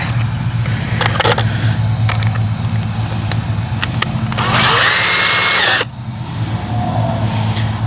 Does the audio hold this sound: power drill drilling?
yes